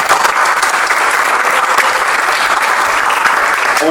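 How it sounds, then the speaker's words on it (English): An audience at a League of Women Voters school district candidate forum applauds, a dense, loud burst of clapping that stays steady for the full few seconds with no talk over it. "let's give them a round of applause."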